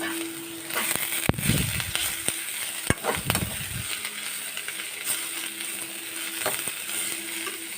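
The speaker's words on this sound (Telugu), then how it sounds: "ఇది బాగా పొడి పొడిగా అయ్యే వరకు వేయించడమే." Grated beetroot dry-fries in a pan with a steady close sizzle. Now and then a spatula scrapes and taps against the pan.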